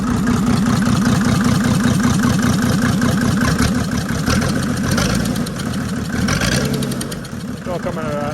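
The OM606 diesel engine in a 1996 Mercedes-Benz G300 G-Wagon runs close by with a loud, steady, knocking idle that eases slightly toward the end.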